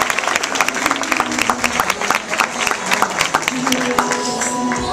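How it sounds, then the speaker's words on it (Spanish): Guests at a quinceañera party give the birthday girl a loud round of applause, dense crowd clapping with scattered cheers and voices mixed in, close and sustained throughout. "Vamos a darle un fuerte y merecido aplauso a nuestra festejada"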